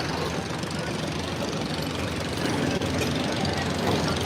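A boat engine drones steadily on the Narmada River, a constant close and fairly loud hum with no breaks, and no talk over it.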